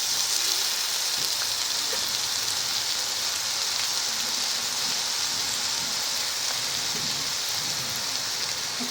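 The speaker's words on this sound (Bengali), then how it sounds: "এবার এই মশলাটাকে ভালো করে নাড়াচাড়া করব যাতে ভালো করে কষানো হয়ে যায়" Spice paste with tomato paste sizzles steadily while being stir-fried for a fish curry, a dense, even frying hiss running without pause throughout, close and fairly loud, with no talk.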